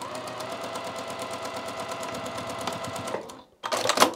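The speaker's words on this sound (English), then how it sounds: "We're going to take this to the machine and sew down this edge using a 1/4 inch seam allowance." A sewing machine runs a quarter-inch seam on a quilted pillow piece: a rapid, steady mechanical stitching rattle, a short stop, then a quick final burst of backstitching.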